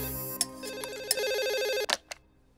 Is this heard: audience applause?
no